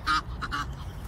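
Ducks quack in a park pond in Hyde Park, London: a few sharp, nasal calls close by, the first loudest, followed by two quicker quacks over low outdoor background noise.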